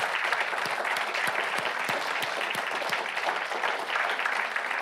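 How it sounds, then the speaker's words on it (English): Steady applause from an audience at a county town hall meeting on housing in St. Johns County fills the whole stretch, a dense wash of hands clapping at moderate volume with a few sharper claps standing out. "if I could just have another round of applause for Eric, Aaliyah, Melinda, Bob, and Bill."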